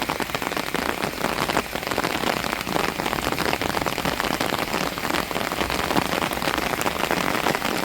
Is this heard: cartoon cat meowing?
no